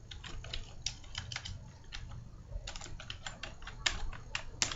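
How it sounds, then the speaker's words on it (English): Typing on a computer keyboard at a desk, quick irregular bursts of close, light key clicks with brief pauses between runs, alone and fairly soft. "I will type here"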